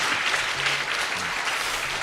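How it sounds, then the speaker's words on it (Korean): Sustained applause from a congregation at a church worship service opening a discipleship training program, a dense, steady clatter of many hands clapping together with no voices over it. "우리 서로를 위해서 같이 박수하겠습니다."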